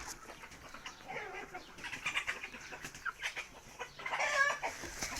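Broiler chickens plagued by biting midges, clucking and squawking at close range in irregular bursts over a faint background of shuffling and murmur.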